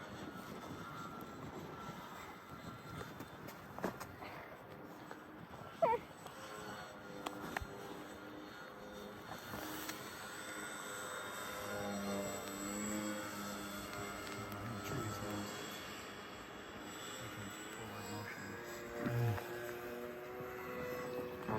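An RC Sea Duck model plane flies over a lake in a snowstorm with its engine at full throttle, a steady buzzing drone that holds through the whole stretch and swells briefly toward the end.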